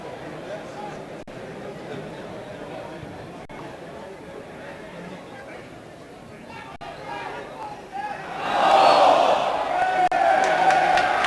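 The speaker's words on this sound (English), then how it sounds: "Sarcastic applause from the Argyle fans" Plymouth Argyle fans at a 1997/98 home football match against Wigan Athletic give sarcastic applause: steady crowd murmur and chatter, then a louder wash of clapping and noise swells in the final few seconds.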